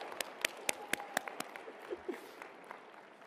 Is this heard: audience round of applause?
yes